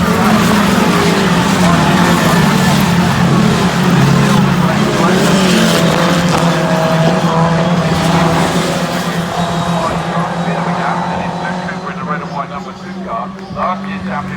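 Formula Ford race cars approach and pass on the Castle Combe circuit at a race start, a loud sustained roar of several engines rising then fading into the distance, with a commentator talking over it.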